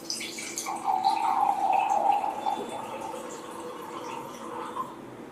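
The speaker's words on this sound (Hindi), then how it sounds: "अब यही तीनों में हम हमारा अल्कलाइन एक्वावेदा जो पोर्टेबल जार है उसका पानी ऐड करते हैं" Alkaline water from a portable jar is poured into a container, giving a steady, soft trickling splash that runs for several seconds and tapers off quietly near the end.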